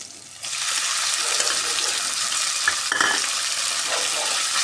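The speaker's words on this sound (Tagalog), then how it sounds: "Tuloy na po natin ang ating sahog na giniling." Ground meat dropped into a hot pan for adobong labong with bamboo shoots, a quiet start bursting into loud, steady sizzling frying with a few clicks and stirring scrapes, close up and free of talk.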